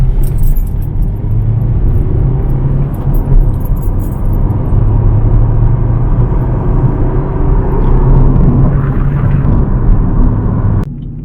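Cabin of a remapped Vauxhall Astra CDTI diesel on the road: a steady, loud engine and road drone with a constant low rumble and light rattling, running unbroken to a sudden stop.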